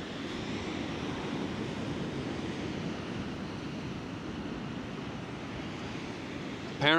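Wind gusting across a beach in Perth, Australia, a steady low roar buffeting the microphone with surf mixed underneath, ending in a brief louder bump.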